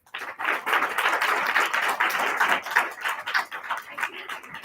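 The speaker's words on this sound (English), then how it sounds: "my wife's clapping for the negative" Steady applause-like clapping from a few hands at a forensics debate showcase, dense and continuous, gradually thinning toward the end.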